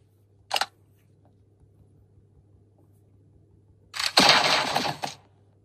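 Gunfire in a mobile action game from a set that includes Subway Surf, Zombie Tsunami, Ice Scream 5 Friends and Supreme Duelist: a short sharp shot, then after a pause a longer, louder burst of about a second over a steady low hum.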